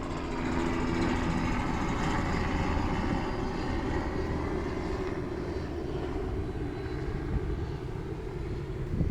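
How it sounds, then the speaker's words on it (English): A police helicopter drones overhead, a steady low rumble of rotor and engine holding constant, with no voices. "Pretty sure that's a police helicopter."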